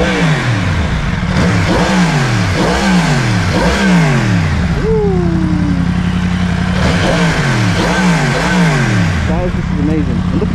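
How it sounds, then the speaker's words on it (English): A Yamaha MT-10 motorcycle revving loudly in a London car park, with repeated sharp throttle blips that climb and fall back in a rapid rhythm, a brief pause with a whine, then another burst of revs, close and dominant. "We're gonna get some revs"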